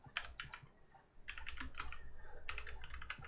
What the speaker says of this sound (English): you type pip install